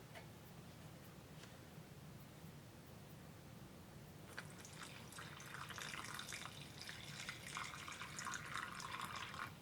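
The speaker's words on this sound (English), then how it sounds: "So we're gonna add some water to this." Water is poured into a rock tumbler barrel holding cabochons. After about four seconds of low, steady hum, a continuous splashing trickle begins and carries on close by to the end.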